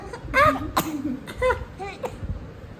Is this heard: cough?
yes